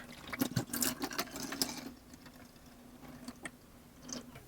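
Water dumped out of a Bissell carpet cleaner's clean-water tank, a short splashing, gurgling pour with some plastic clatter, loudest in the first two seconds and then tapering to faint drips and knocks.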